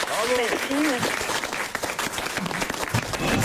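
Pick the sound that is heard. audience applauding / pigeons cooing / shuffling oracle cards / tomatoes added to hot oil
audience applauding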